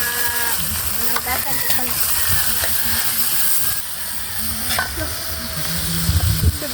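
Ampalaya (bitter gourd) from a home garden sautéing in a pan, a loud continuous sizzle with stirring scrapes and clatter, while someone talks over it.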